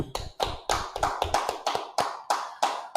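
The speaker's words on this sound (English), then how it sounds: "All right, clap it up." A few people clap in a steady, evenly spaced rhythm at a gathering, each clap crisp, close and distinct, with short silences between the beats.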